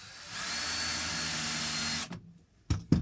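A cordless power drill whirs steadily for about two seconds driving a screw into wood, then stops, followed by a couple of knocks as a spacer and the next screw are set.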